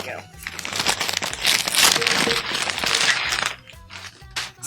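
A taped shipping box from an eBay haul being opened, heard as continuous crinkling, scraping and tearing of cardboard and packing close by. Some background music plays underneath.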